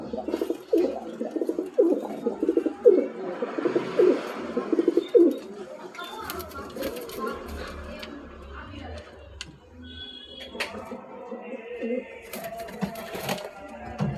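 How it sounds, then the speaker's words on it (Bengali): Bloodline pigeons in Kolkata coo in low repeated bursts while a person talks; later come clattering rustles and flapping as the released pair takes off. "পায়রা কেমন অ্যাক্টিভ দেখুন।"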